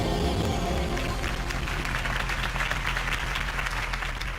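Broad crowd applause following a campaign speech in The Batman Telltale game, a dense, steady wash of clapping lasting the full few seconds at moderate level.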